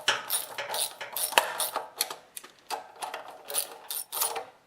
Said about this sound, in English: And with my 10mm socket, I'm going to tighten it up. And I'll tighten up the two 10mm nuts.